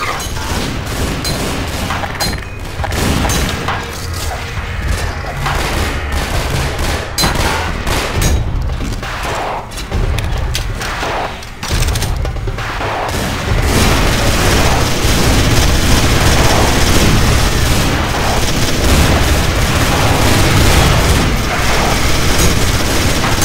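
Dense, continuous gunfire in Garry's Mod Zombie Survival, rapid overlapping shots and booming bursts filling the whole stretch, growing louder and heavier toward the end.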